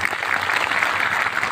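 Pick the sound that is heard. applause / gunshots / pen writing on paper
applause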